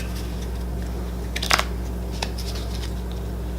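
A thick deck of playing cards is shuffled in a short riffle of quick papery flutters and snaps, clustered near the middle, over a steady low hum with no talking.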